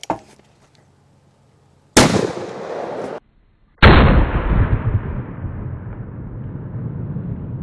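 Two booming shots from a Magnum Research BFR revolver chambered in 45-70, fired outdoors on a hot summer day at a watermelon target: each sharp, loud blast rolls into a long decaying echo.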